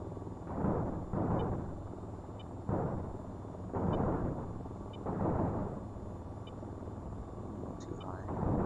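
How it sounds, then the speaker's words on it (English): Hydra rockets firing in bursts from an AH-94 attack helicopter in the VTOL VR flight game, roughly six separate whooshing launches spaced about a second apart over a steady rotor hum, with someone talking between them. "It's the same as planes, just little rockets that you can fire."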